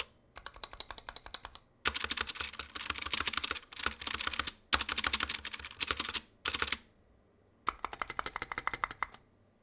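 Custom mechanical keyboard with clipped, lubed and Band-Aid-modded stabilizers being typed on in quick bursts of crisp, tight clacks, several rapid runs separated by short pauses, close and clear with no talking.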